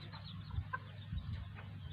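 Bantam chickens clucking softly on a small backyard farm, a few short low clucks scattered over a couple of seconds, faint and close, with no talking.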